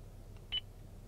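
A single short electronic beep from a 2013 Toyota Avalon infotainment system's voice command prompt, clean and alone over a low steady cabin hum.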